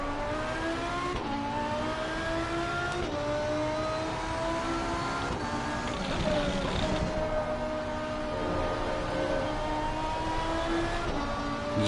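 A race car in Assetto Corsa drives on cold tires, its engine droning steadily with repeated rising revs and gear shifts, close and continuous, the pitch climbing and dropping every second or two.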